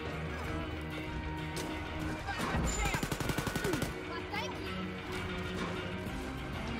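Steady, rapid gunfire from the video game Wolfenstein Youngblood runs throughout, with a dense burst of automatic shots in the middle, all set against a constant wash of game noise and effects.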